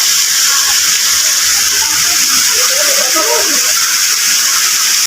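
Steady rushing roar of a waterfall on a river, a continuous broadband hiss filling the whole clip at close range, with faint indistinct voices underneath.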